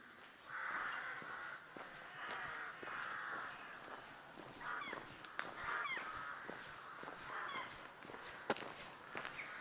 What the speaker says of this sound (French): c'est assez fou d'entendre ces oiseaux croasser